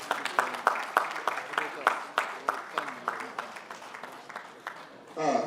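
A sparse audience claps at a Nigerian conference panel session as a panelist is called to the table; individual claps sound thin and uneven, somewhat distant, and trail off near the end.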